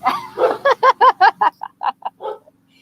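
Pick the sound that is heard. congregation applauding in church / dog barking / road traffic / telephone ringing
dog barking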